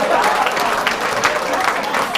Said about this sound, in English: clap for one thing